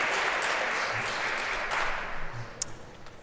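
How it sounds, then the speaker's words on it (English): Audience applause at a remembrance event, a broad wash of many people clapping that fades and thins out over a few seconds. "Maybe we could do a little applause."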